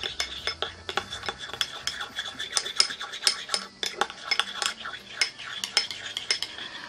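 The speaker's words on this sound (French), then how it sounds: "Donc je vais mélanger déjà." A spoon clinks and scrapes rapidly against a bowl while a homemade glue-free slime mixture is stirred, a steady run of sharp close taps with no talking.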